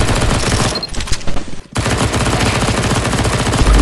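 Rapid automatic gunfire in CS:GO zombie escape on the ze_world_escapes_v1 map, dense and loud, with a brief gap before continuous firing resumes, no talk.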